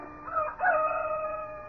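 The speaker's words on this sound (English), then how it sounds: "beckoned by a rooster somewhere," A rooster crows somewhere off at a distance, one drawn-out cock-a-doodle-doo rising and then holding steady, clear over a quiet background.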